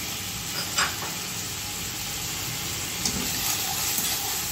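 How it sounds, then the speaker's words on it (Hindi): Shredded cabbage fries in a pan for paneer tacos, a steady close sizzle and hiss with a couple of brief stirring clatters, no talking. "अब हम इसमें ये पत्ता गोभी डाल देते हैं।"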